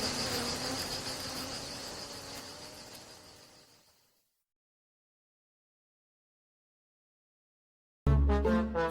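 A swarm of bees hums and buzzes steadily as the bees leave their hive, fading gradually to silence, before a brief burst of another sound cuts in at the end.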